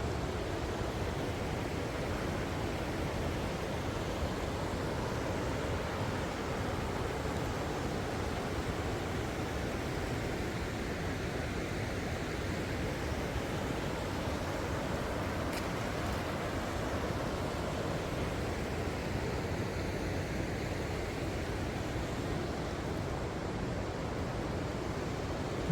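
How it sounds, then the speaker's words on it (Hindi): The Baspa River near Chitkul flows in a steady, dense rush of water, a constant broadband roar with no breaks, heard close and unchanging and with no voices over it. "इसका जो शोर है पानी का, वो शोर नहीं लग रहा"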